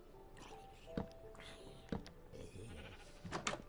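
Faint sheep bleats from Minecraft, a few short cries spaced about a second apart over a quiet, slightly noisy background.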